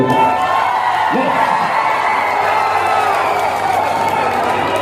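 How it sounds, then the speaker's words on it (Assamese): Spectators at a Bihu festival function break into loud sustained applause and cheering, a thick wash of clapping and crowd shouting with scattered whoops that holds steady from start to finish. "ইমান সুন্দৰ দৰ্শকৰ কাৰণে এবাৰ চোৰদাৰ হাত চাপৰি বজাই"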